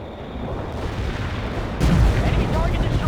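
Bombs from an air strike burst in the World in Conflict strategy game, a heavy rumbling boom swelling in suddenly partway through over a steady battlefield din.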